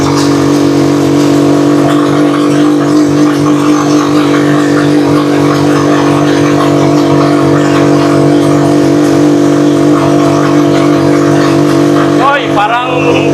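A Rusi Chariot 175 motorcycle loaded with ten containers of water labors uphill in second gear, a steady loud close engine drone throughout, with a brief clatter near the end.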